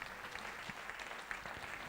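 A church congregation claps at a moderate distance, a steady, fairly faint wash of hand claps lasting a couple of seconds with no voices rising above it.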